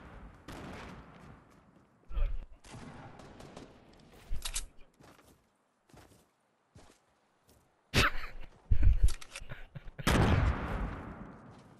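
Video game gunfire in bursts and scattered single shots, some loud and close, others fainter, separated by gaps of quiet and muffled movement.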